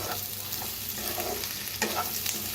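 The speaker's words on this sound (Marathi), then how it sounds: "मिक्स करूया एकदा" Spiced potato and okra stir-fry being stirred in a pan, with steady sizzling and a few soft spoon scrapes, close and fairly quiet, no talking.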